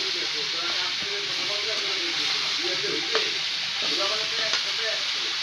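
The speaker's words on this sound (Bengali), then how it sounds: "এদিকে হচ্ছে আম্মু সবজিটা রান্না করছে" Winter vegetables (cauliflower, flat beans, potato, eggplant, radish) frying in a pan with five-spice seeds, a constant hissing sizzle with occasional stirring clinks, and faint voices in the background.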